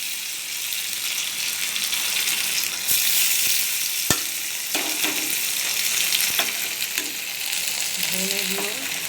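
Chopped ginger and coriander powder sizzle loudly in hot oil with a bay leaf and five-spice tempering for khichuri, while a spatula stirs and scrapes the pan in scattered clinks.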